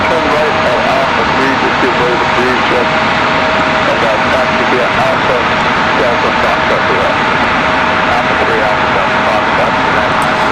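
A CRJ regional jet arriving from Toronto at Raleigh-Durham airport, its steady engine roar filling the whole stretch at close range, with people talking over it throughout.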